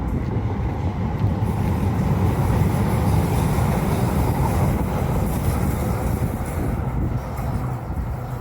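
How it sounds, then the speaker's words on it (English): A train goes past with a dense, steady rumble and wash of rail noise that stays loud and even throughout, with no talking over it. "The train we were on."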